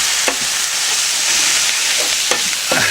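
Steady, loud sizzling of onions frying in vegetable oil on a hot Blackstone griddle, with occasional scraping stirs cutting through the hiss.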